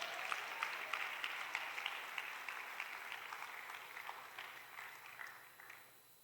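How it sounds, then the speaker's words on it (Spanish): A church congregation claps during a sermon, a steady even applause running about six seconds and tapering off at the end, moderately distant in the room. "Den un aplauso al Señor"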